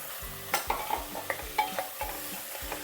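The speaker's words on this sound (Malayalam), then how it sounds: "എന്നിട്ട് ഒരു 2 മിനിറ്റ് ഇത് ഒന്ന് ഇളക്കി വഴറ്റിയെടുക്കാം." Chopped vegetables for a masala dosa filling are stirred and sautéed in a pan, with a soft steady sizzle under repeated clear scrapes and clacks of the spoon every half second or so, close and alone with no talk.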